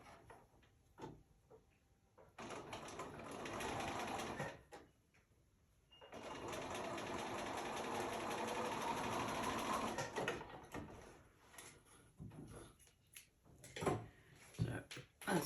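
A sewing machine top stitches a velvet cat doll with an embroidered collar, running in two quiet, close bursts of steady whirring with brief clicks and handling noises between.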